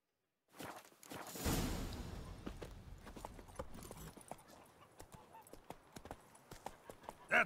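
Roach, the horse in The Witcher 3, trots then gallops close by with rapid clip-clop hoofbeats and a brief whoosh, along with faint ambient game sound.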